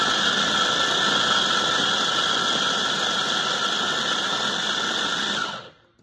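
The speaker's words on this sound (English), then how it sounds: "Be sure and put the lid on your food processor, and we're gonna do it on chop." Food processor with its lid on, run on chop to cut garden greens for chimichurri, a loud steady whirring drone that stops abruptly at the end, no voices.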